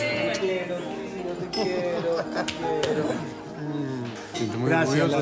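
Glasses clink in a family toast at a dinner table, several bright chimes scattered through the moment while people speak and murmur nearby.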